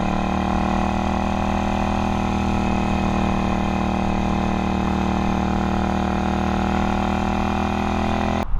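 Suzuki VS 800 motorcycle, an 800 cc engine, running at a steady idle: a continuous, even mechanical hum with a strong low tone, close and alone, holding constant for the whole stretch.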